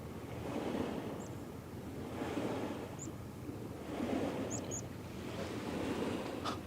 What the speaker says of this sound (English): The waves are making a synchronous pattern. It's like shh, shh.